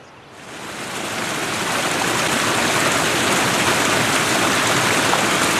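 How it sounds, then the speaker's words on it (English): A small feeder creek flowing into Peltier rushes steadily, the broadband water noise rising over the first second and then holding loud and close with no speech. "One of the little feeder creeks coming into Peltier."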